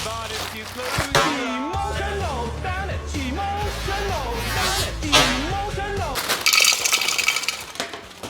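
A bag of ice is smashed several times in bursts of sharp cracking and clinking, close by, while people yell and talk loudly throughout.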